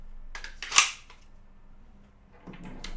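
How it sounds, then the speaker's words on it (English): A firearm being reloaded for storage: a few sharp metallic clicks and a snap near the start, then quieter handling rattles, close and alone with no talk. "now I'm gonna reload this and store it"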